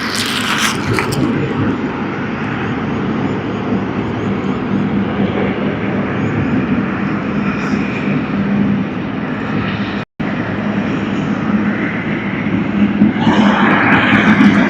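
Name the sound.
Emirates Airbus A380 landing at Sydney Airport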